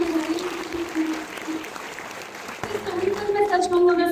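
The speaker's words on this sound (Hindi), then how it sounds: "एक बार आप सर के लिए तालियां बजाइए।" Audience at an evening poetry gathering in a camp claps for a visiting guest, steady applause running under a voice throughout.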